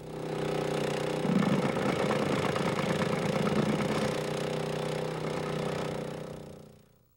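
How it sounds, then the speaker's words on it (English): An Easy 9000 ground saw mini trencher runs as it cuts through a 2x6 board, giving a steady, close engine drone with a rough grinding edge before it quickly dies away at the end. "look for the wood chips as the Easy 9000 ground saw easily cuts through this 2x6"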